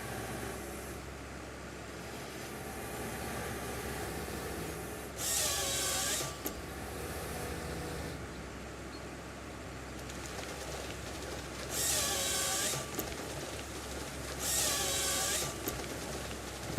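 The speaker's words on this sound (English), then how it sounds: "That's the first time I've seen the little chainsaw come down." Small chainsaw on a tree harvester in Farming Simulator 25 cutting timber, three separate bursts of high whining buzz over a low steady machine hum, each lasting about a second.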